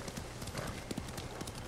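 Horse hooves clip-clop steadily at a walking pace in Ghost of Tsushima, close and continuous over the game's ambient background.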